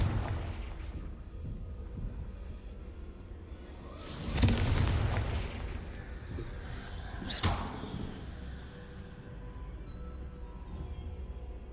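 Spell explosions from Bombarda and Confringo cast in Hogwarts Legacy during a haunted Hogsmeade quest: two loud booming blasts several seconds apart, the first broad and rumbling, the second a sharp crack, over a low game ambience.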